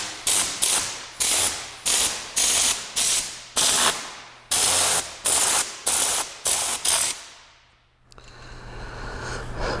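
A Tornador Mini air-powered cleaning tool fires a rapid series of loud, close hissing air blasts at steady intervals, about a dozen in a row, blowing debris from corners, then a short pause and a softer ongoing rush.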